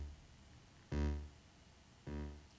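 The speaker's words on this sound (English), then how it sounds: "So a slow delay would sound like this." A synthesized tone run through the Aalto waveguide/delay module on a slow delay setting, heard as two separate bright harmonic bursts about a second apart, each fading out over a quiet hum with no voice.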